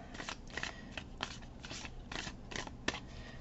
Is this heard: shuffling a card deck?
yes